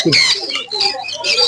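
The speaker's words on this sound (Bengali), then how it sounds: "পাখির ডাক শুনলে মন ঘুরে।" Parrots and conures, including sun and pineapple conures, call at the Mirpur bird market with loud, shrill, overlapping squawks and screeches that come in quick bursts close by.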